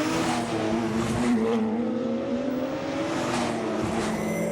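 Porsche GT3 Cup race cars at Spa in the Porsche GT3 Cup Challenge Benelux scream past in a dense pack, their engines droning loud and steady with rising pitch as they accelerate.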